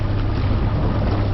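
Heavy wind buffets the microphone on an ice fishing camping trip, a loud, constant low rumble and roar with no voices.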